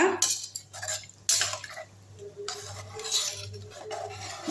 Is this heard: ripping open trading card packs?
no